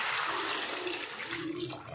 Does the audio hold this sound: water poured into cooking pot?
yes